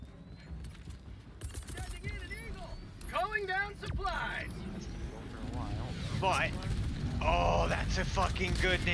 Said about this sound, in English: Fucking good napalm strike